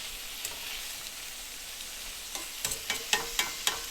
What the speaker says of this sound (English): Wish I weren't browning the shallots so well.